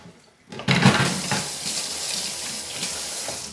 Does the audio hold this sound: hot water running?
yes